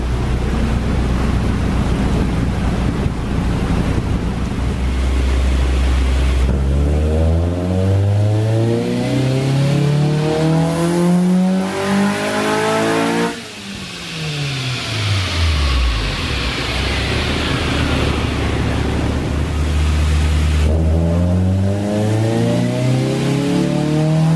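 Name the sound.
Honda B18C engine revving in 2000 Civic Si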